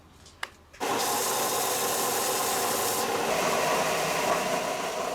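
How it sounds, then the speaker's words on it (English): A power sander grinds steadily against a carved wooden fishing lure body, a loud continuous rasping roar that starts after a brief quiet knock and runs unbroken to the end. "Back to the sander."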